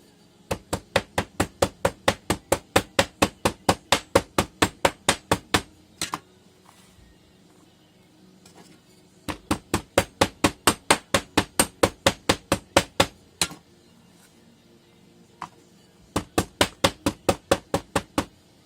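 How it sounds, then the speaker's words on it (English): Rapid, steady hammer blows compacting sand into a casting mold, in three long bursts, each a quick run of sharp, loud strikes separated by brief pauses, with no talking. "we're going to start hammering this in"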